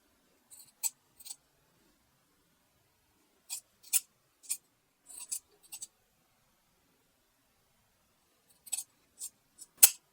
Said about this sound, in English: Next, you can trim the ruffle seam allowance just to reduce some bulk.